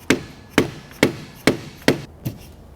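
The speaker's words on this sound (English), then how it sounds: "I just hit myself in the fingers with a hammer." A hammer drives a pin into a paramotor trike frame in six sharp, evenly spaced strikes about half a second apart, close and loud, with no talking.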